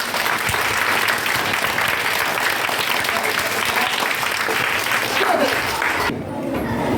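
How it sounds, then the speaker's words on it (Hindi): A studio audience at a quiz-show taping applauds a contestant, a dense, loud wash of clapping that runs steadily for several seconds before cutting off near the end. "जोरदार प्रदीप कुमार के लिए आप लोग जोरदार तालियां दीजिए"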